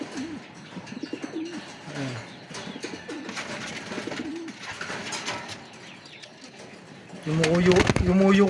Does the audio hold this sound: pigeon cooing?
yes